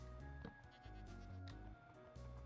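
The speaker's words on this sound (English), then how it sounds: "Okay, there's a goat here." A goat bleats in the video game Minecraft, a few short quavering calls over a steady background of game music, fairly close and clear with no talking.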